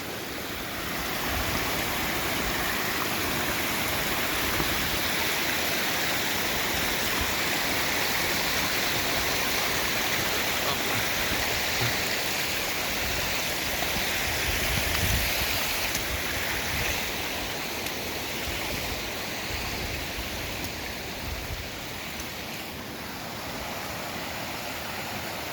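A waterfall on a mountain hiking trail to the summit of Sněžka in the Karkonosze near Karpacz, heard as a steady, loud, close rushing roar of falling water that barely changes throughout, with no talking.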